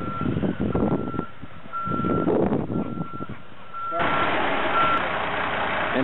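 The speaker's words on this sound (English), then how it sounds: "And here comes truck number two." A truck arriving at a house demolition or moving site, its reversing alarm beeping steadily in a regular repeating pattern over a rumbling engine, with a brief pause midway before the beeping resumes louder.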